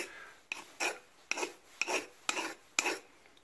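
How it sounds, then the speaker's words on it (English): A metal file rasps in six short, sharp strokes across quenched coil spring steel, each bite close and distinct with brief pauses between. "sure enough, the file bites right in"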